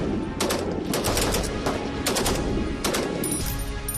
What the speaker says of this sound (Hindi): इस मोर्चे पर भी फायरिंग का अभ्यास ताबड़तोड़ था।